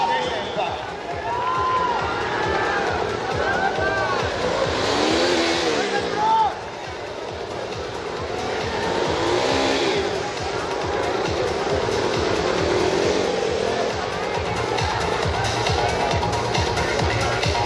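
KTM RC 390 motorcycles race in a final on a track at an Orange Day event in Raipur, their engines droning steadily and loudly throughout with passing surges, under a commentator's continuous talk and crowd noise.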